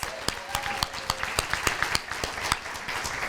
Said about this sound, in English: Let's give Superintendent Thurman another round of applause.